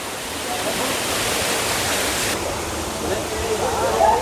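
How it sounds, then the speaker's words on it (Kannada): Abbi Gundi waterfall near Sakleshpur roars with a dense, unbroken rush of falling water, close and loud, and a voice can be heard faintly beneath it. "ಎಷ್ಟು ಚೆನ್ನಾಗಿ ಕೇಳಿಸ್ತಿದೆ falls sound, super ಕೇಳಿಸುತ್ತೆ falls sound"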